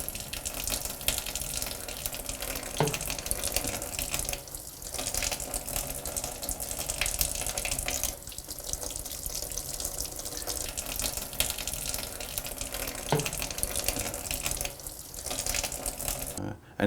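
Tap water runs steadily into a sink while a polished metallographic sample is rinsed clean between polishing steps, a continuous close splashing hiss with brief changes as the sample moves through the stream.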